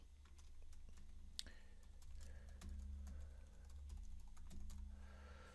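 A name being typed on a computer keyboard, with quiet, close key clicks in an irregular rhythm against a faint background hum.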